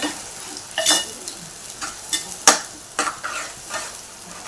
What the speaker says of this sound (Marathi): त्यामध्ये वाटण टाकूया आपण परतून घेऊया